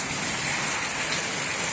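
Steady rain falls outdoors near a tree, soaking stored rice, as a dense, even hiss that fills the whole moment without pause.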